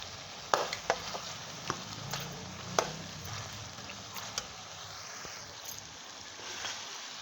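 A metal spoon stirs Balochi tikka karahi masala in a karahi with a little added water, giving scattered scraping clinks over a steady frying sizzle, close and moderately loud, with no voices.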